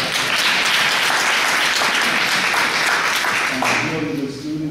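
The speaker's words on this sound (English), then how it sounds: "Let's clap our hands for that." Audience at a Richmond town hall meeting clapping steadily for several seconds, dense applause that thins toward the end as a voice starts speaking.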